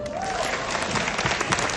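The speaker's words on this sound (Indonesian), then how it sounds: "Tepuk tangan." Steady applause from a seminar audience fills the whole moment, dense and continuous, with a faint voice or tone running underneath.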